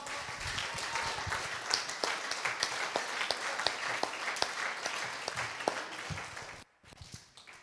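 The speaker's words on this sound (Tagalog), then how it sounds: "Palakpakan nga po natin si Lord." Congregation applauding in a church service, a dense, steady wash of many hands clapping with sharp individual claps poking through, fairly distant in the room, cutting off abruptly near the end.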